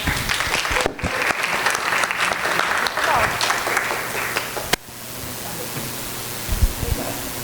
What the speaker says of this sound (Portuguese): Uma salva de palmas para ela, por favor.